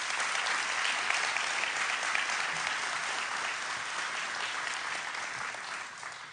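Applause for a fire chief at a fire and rescue recruit class graduation ceremony: a large crowd claps steadily and loudly for about six seconds, fading slightly toward the end.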